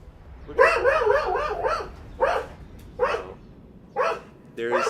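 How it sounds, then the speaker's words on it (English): A dog barks in several separate bursts, once in a quick run and then in single loud barks spaced about a second apart, close by over a low background hum. "there's another dog that's being walked on the sidewalk"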